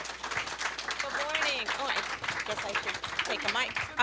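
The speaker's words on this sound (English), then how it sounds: "How about a nice big round of applause?" A church audience breaks into a warm round of applause to welcome Reverend Peggy Price at a Sunday service, a steady patter of hand-clapping filling the room with voices talking over it.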